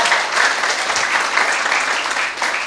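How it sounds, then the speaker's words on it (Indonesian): An audience claps together at a motivational talk, dense, steady applause that fills the whole moment and carries no speech above it. "Bisa tepuk tangan dulu."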